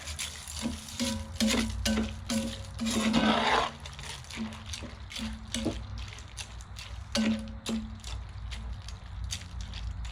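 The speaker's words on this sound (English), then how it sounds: "I'm gonna stir this up. Make sure it's all coated." Goulash ingredients stirred in a Dutch oven, ahead of a camping trip: a spoon knocks and scrapes around the pot in repeated close strokes, with wet, squelching swirls and a soft background hum.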